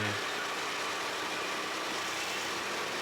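A go-kart engine runs steadily on a kart track, a continuous mid-pitched engine drone that holds at an even level for about three seconds with no other clear sounds.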